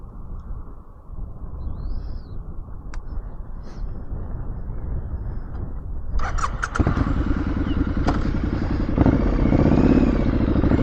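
A Triumph naked motorcycle being ridden, with a steady rumbling engine drone and rushing wind noise. The engine rises in pitch and grows louder partway through, close and continuous.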